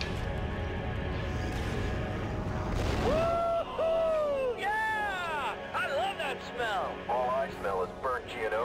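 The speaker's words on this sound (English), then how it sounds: "my scanner's showing explosion" In Star Wars Republic Commando, an explosion opens as a broad, roaring blast lasting several seconds, then gives way to chirping electronic tones and voices talking over the game sound.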